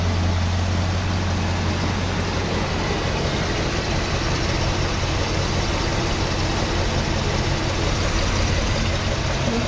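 A 1966 Galaxie 500 or 1959 Bel Air engine with a freshly repaired radiator idles steadily. The low, even drone holds at a constant close level for the whole stretch, with no talk over it.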